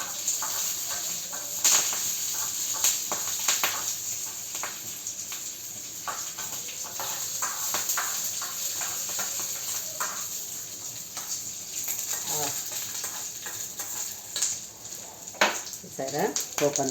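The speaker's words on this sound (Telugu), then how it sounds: "పోపు వేసేస్తున్నాను." Ghee tempering (popu) frying in a pan, a steady bright sizzle with scattered crackles and pops, heard alone and fairly close.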